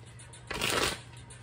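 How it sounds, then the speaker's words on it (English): A Cosmic Tarot deck is shuffled in one short, close riffle of crisp flapping cards, about half a second long, set against quiet room tone. "I'm going to go ahead and begin shuffling here."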